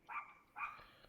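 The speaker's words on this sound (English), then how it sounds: "Once again, sorry for the barking." A tiny little dog barking indoors, two quick, faint, high yaps heard from a short distance away.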